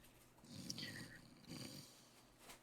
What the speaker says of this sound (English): Yes, the snoring you hear.